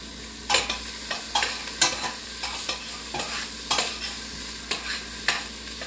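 Onions stirred and frying in olive oil in a pot for one-pot chili, with a steady sizzle broken by regular scraping strokes of the spoon about twice a second, close and fairly loud.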